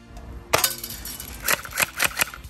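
A Daisy BB gun fires once at a can target, a sharp close crack followed by several quick clinks and rattles of metal.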